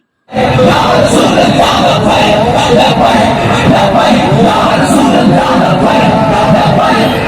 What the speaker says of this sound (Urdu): فضا درود و سلام اور جشن آمد رسول صلی اللہ علیہ وسلم کے نعرے سے گونج اٹھی۔